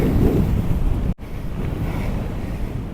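Strong northerly wind roars across the microphone in steady heavy gusts while cycling on dirt roads, with a brief dropout midway, and no voices.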